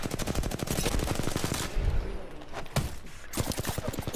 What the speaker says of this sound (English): Somebody's shooting at me from way over here.